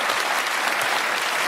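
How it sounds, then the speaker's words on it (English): Studio audience applause on a British comedy panel show, a dense, even burst of many hands clapping at once, loud and close throughout. "I think we should give a round of applause."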